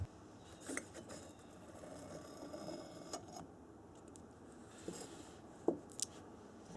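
A Denso oil filter for a Toyota is being opened up, with scattered faint metallic clicks, taps and scrapes over a quiet background hum, growing into a couple of sharper clanks toward the end.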